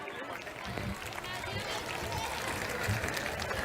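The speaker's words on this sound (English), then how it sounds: "Please welcome ma'am with a big round of applause" Audience applause at a school annual function, a thick continuous wash of clapping and crowd noise heard from within the hall, steady and moderately loud.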